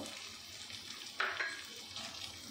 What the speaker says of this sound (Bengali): ক্যাপসিকামটা দিয়ে একটু ভালো করে নাড়াচাড়া করবে।